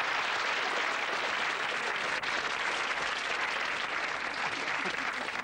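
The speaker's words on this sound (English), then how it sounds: "Give him a big round of applause, ladies and gentlemen" A television game show studio audience gives sustained applause for a contestant, a dense, even wash of clapping that holds at full strength from start to finish.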